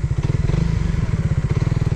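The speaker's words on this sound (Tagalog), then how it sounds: "Nakasabak yung ating Suzuki Radiant R150 dito, ah." A Suzuki Radiant R150 motorcycle riding over a rough, unpaved road in Bulacan, its engine throbbing in fast, close, loud pulses with faint rattling from the bumpy surface.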